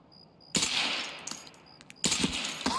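Gunfire in the video game Escape From Tarkov: two loud, sharp volleys of shots about a second and a half apart, with a few quieter scattered pops between them and no talk.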